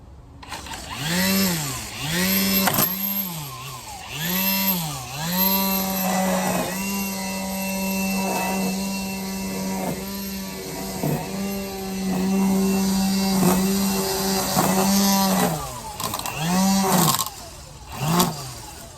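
Milwaukee M18 cordless string trimmer whining outdoors near the camera, its motor revving up and down in repeated bursts, then holding a steady high drone before easing off and spinning up again.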